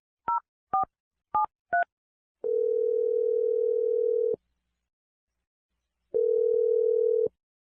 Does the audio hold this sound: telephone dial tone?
yes